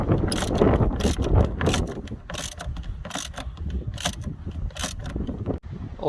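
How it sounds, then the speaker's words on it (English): A ratchet with a 13mm socket loosens the battery holder on a Dodge Grand Caravan, giving bursts of clicking close up over steady background noise. "you'll need a 13mm socket to do that"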